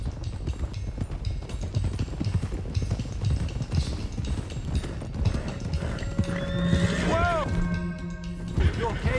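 Horses' hooves clip-clop steadily in the game Red Dead Redemption 2, with a horse whinnying partway through, under continuous speech and ambient game sound.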